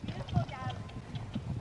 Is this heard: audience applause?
no